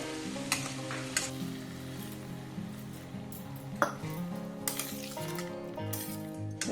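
Potatoes and tomatoes cook in a pan as a little water goes in, producing a steady moderate sizzle with a few sharp spatters, heard under continuous background music.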